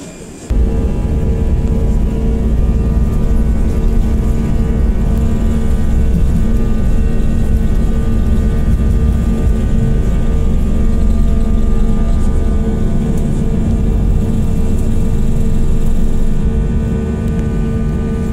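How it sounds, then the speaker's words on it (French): Steady, loud airliner cabin roar during cruise flight from Marseille to Moscow, a dense continuous engine and airflow drone with no breaks, heard alone for the whole stretch. "Nous sommes en vol de croisière entre Marseille et Moscou."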